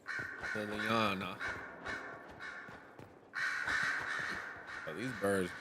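Crows in the Dragon Age Inquisition video game caw loudly in repeated harsh bursts, close and prominent, with people talking over and between the calls.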